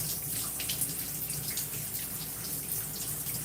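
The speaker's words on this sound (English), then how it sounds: "But we're just rinsing out the conditioner in my twist." Water runs steadily from a tap while conditioner is rinsed out of twisted hair, a constant close hiss and splatter with no pauses.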